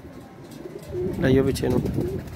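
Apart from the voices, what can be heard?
red-eyed pigeon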